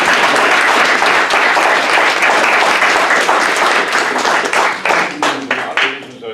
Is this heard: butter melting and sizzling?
no